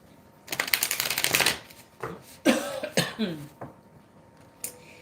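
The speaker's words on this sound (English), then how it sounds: "Let's see if I can pull some Oracle Lightworker cards for you guys." Oracle tarot cards being shuffled close by, a dense riffling burst followed by shorter shuffles and taps, with a cough or throat clearing mixed in.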